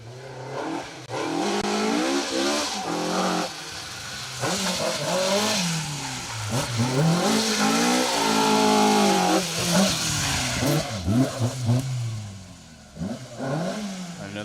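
A Ford Escort rally car, car 25, runs an asphalt stage at Rally Ceredigion, its engine revving hard up and down through gear changes, loud and close, with tyre noise as it corners.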